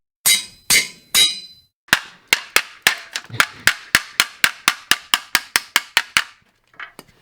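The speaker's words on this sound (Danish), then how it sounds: "Mekanikeren har fundet en hammer." A mechanic strikes metal with a hammer in a steady series of sharp, ringing blows, about twenty in quick rhythm after a few spaced opening hits, loud and close with no talk.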